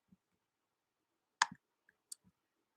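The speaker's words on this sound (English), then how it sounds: "I'm just clicking through them to" A computer mouse clicks a few times while someone works through voicemails during real estate wholesaling marketing. The clicks are sharp, quiet and sparse, with gaps between them in an otherwise silent room and no talk.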